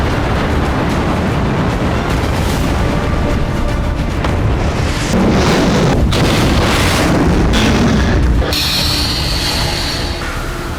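An atomic bomb explosion sound effect: a loud, deep, continuous roaring rumble that fills about eleven seconds and eases off slightly at the very end.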